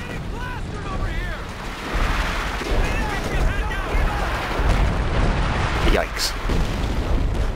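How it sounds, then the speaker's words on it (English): Zeroing artillery barrage in Company of Heroes 2, with repeated heavy booms and roaring impacts that overlap in a dense, continuous bombardment while a voice talks and exclaims over the shelling. "Zeroing artillery is surprisingly effective."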